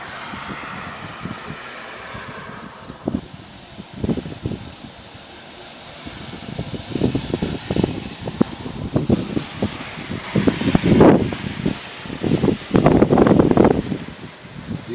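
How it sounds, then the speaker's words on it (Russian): Gusty wind ahead of a thunderstorm rushes through foliage, leaves rustling in surges that grow louder and rougher toward the end, with buffeting on the microphone. "Ветер поднялся."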